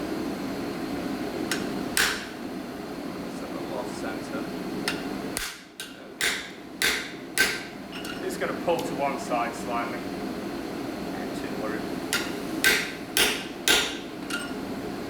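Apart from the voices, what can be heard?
hammer strikes driving a half-inch square hot punch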